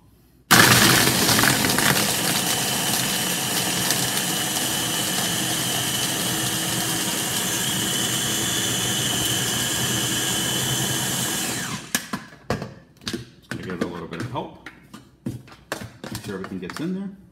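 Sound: Ninja blender running

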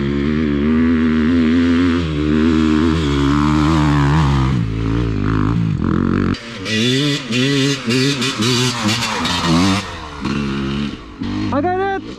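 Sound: KTM 350F enduro motorcycle climbing a ramp on one wheel

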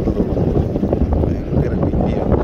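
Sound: strong cold wind at sea

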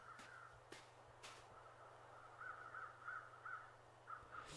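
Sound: crows cawing in the video game The Long Dark

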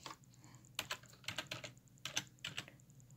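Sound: typing on a keyboard

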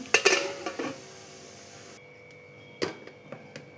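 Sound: lid closing over pan of keema

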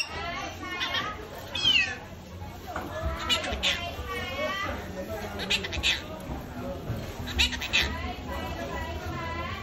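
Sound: monk parakeet imitating a cat's meow

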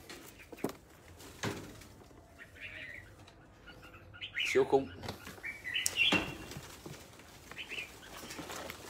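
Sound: bird chirping and flapping wings

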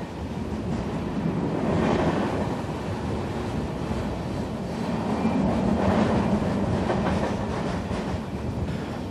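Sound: diesel locomotive train running on tracks

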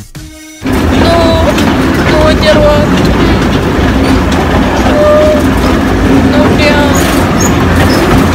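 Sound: small amusement park train ride

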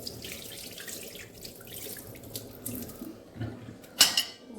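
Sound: hot water poured off boiled potatoes, tap

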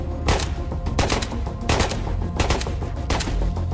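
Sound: gunshots in the video game Ghosts of Tabor

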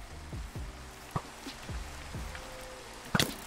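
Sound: rain in Minecraft video game

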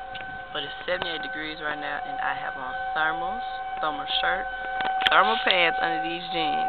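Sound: outdoor warning sirens wailing before a storm

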